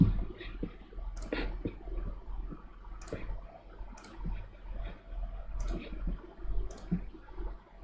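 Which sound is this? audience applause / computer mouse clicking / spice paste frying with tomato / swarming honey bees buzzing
computer mouse clicking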